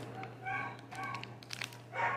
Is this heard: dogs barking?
yes